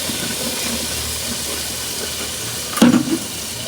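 Butter dropped into a hot pot for pulao gives a steady hiss, then a sudden brief burst of sizzling as it hits the metal and quickly settles back.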